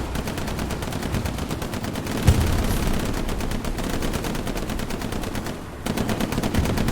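Tank and small-arms fire in the World War II shooter Hell Let Loose: a dense, unbroken stream of rapid automatic gunfire, loud and near, with a heavy thump partway through and a brief dip near the end.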